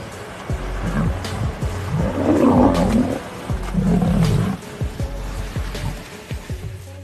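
Three male lions give several deep, rumbling roars in two heavy surges while crossing a river, over a low, steady background rumble, with faint thumps scattered throughout.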